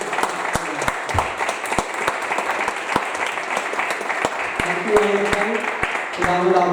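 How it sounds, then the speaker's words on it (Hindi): Congregation applauding during a Christmas church service, a dense round of clapping with sharp individual claps standing out, and a voice speaking over it near the end. "आप उनके लिए ताली"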